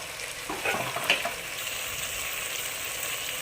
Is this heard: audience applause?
no